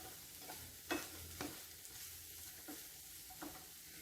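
Chicken being stirred through a creamy garlic sauce in a pan, soft scraping strokes at a slow irregular pace over a faint background hiss, quiet and close.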